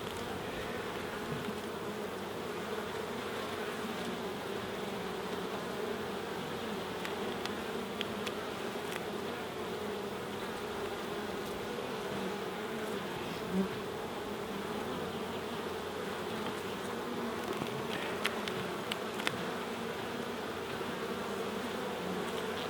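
Honeybees buzz continuously around an open hive full of larvae, a dense, even drone with faint scattered ticks and no voices.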